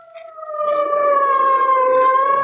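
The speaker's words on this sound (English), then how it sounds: "the wild shriek of a siren as an ambulance catapults through the city's darkened streets." A single ambulance siren in an old-time radio drama wails with a rich, steady tone, rising in loudness and holding strong, alone without any voices.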